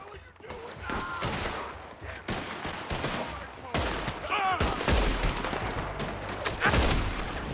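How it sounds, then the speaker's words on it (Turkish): Rapid bursts and single gunshots ring out in a Red Dead Redemption 2 firefight, loud and close in repeated volleys, with someone talking over the shooting. "Adamın belinden vurdum kardeş."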